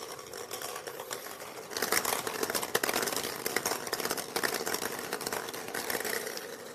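Plastic draw balls shuffled in a glass bowl at a UEFA Europa League draw ceremony: a continuous rattling, clattering jumble that grows louder partway through, close and alone without voices.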